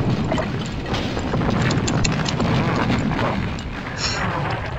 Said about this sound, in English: I have to destroy this building.